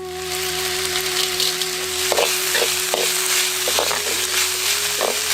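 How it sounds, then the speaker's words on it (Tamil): Steady oily sizzling of onions sautéing with salt in a pan, with a few stirring clinks and scrapes scattered through, under a constant low hum. "கூடவே கொஞ்சம் உப்பு சேர்த்து வெங்காயத்தை நல்லா வதக்கிடுவோம்."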